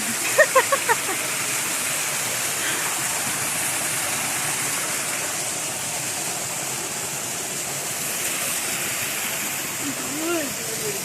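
The steady roar of Amaya Falls fills the air, a loud continuous rush of falling water with voices talking faintly over it.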